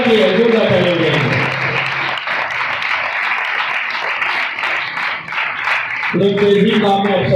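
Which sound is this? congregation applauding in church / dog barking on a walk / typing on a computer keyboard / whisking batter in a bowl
congregation applauding in church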